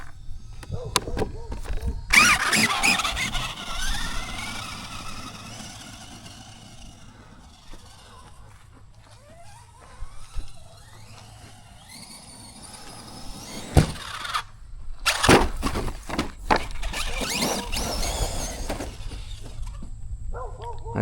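ARRMA 2wd RC car drives and jumps off-road, its electric motor whining in bursts that rise and cut out, with thuds between the faster runs and a voice nearby.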